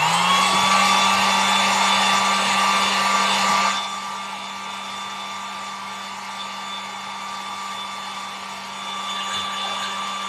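A hair dryer blows steadily on wet paint, a loud continuous whine and rush that drops to a lower, softer setting about a third of the way through and keeps running alone.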